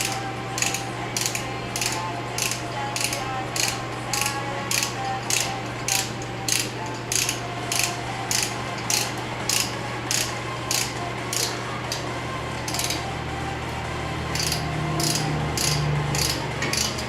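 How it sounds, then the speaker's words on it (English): Rapid, steady ratcheting clicks from a brake caliper compression tool pushing the piston back on a 2014 Chevy Sonic front brake, close and continuous over a low mechanical hum, with no talking. "This tool's not extending enough to get the caliper all the way bottomed out."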